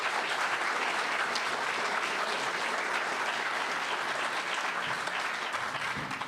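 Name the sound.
audience applause for sheriff candidates at forum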